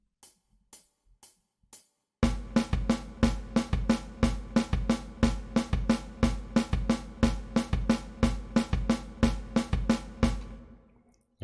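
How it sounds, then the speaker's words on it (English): Drums playing a two-against-three polyrhythm, bass drum on the two pattern and snare on the three, preceded by a few sparse count-in hits, then a steady, evenly repeating pattern of sharp close strikes. "our bass drum is now playing the 2 rhythm with the snare drum playing the 3 against it"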